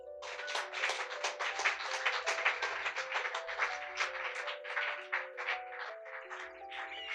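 A church congregation claps during a French-language sermon, with a sustained patter of hands over soft held keyboard notes, moderately faint and without speech.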